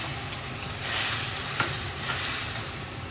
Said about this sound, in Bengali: দিয়ে দিচ্ছি বাটিটা দিয়ে একটু জল।